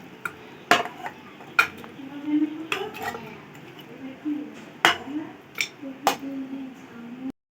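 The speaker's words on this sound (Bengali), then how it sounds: "কড়াই থেকে একবারে কুকারে দিয়ে দিচ্ছি" Chicken curry is shifted from a wok into a pressure cooker, with irregular metallic clanks and scrapes of a spoon against cookware while someone talks.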